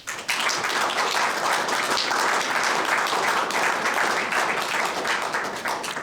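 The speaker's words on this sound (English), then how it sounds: "Don't clap yet, I haven't started." A lecture audience at a history center breaks into dense, sustained applause for Dr. Feller, many hands clapping evenly and loudly for about six seconds without pause.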